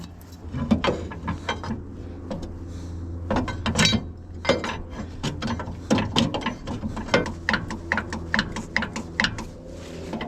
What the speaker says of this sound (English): So let's pull that piston out some with the pry bar.